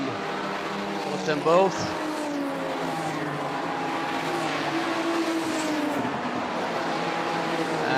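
BMW race cars, including number 21, run on a circuit during the DeWALT Grand Prix 2021, with a steady engine drone, a brief tyre squeal and a passing roar under continuous race commentary.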